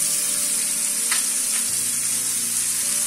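Basa fish fillets sizzle steadily in a hot frying pan, a dense continuous hiss with a couple of soft scrapes as the pieces are stirred; no voices.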